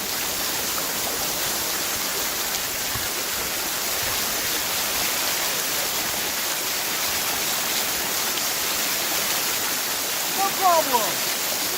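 A waterfall on a hiking trail roars as a steady, loud, broadband rush that fills the whole scene. A voice is briefly audible beneath it near the end.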